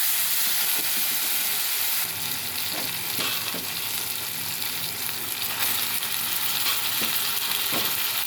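Chicken pieces for a chicken curry sizzle and fry steadily in a pan, a loud continuous hiss with occasional crackles and stirring sounds.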